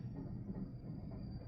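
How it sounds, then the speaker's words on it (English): An empty double-decker passenger train rolls past at a distance, a steady low rumble of wheels on track with faint rail noise and no voices. "Oh, look, there's a train."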